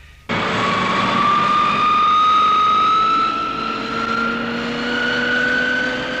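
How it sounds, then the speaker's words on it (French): Aircraft engines run steadily together while a plane taxis toward the runway for takeoff, a loud constant drone with rising tonal whine, no voices. "Tous les moteurs tournent,"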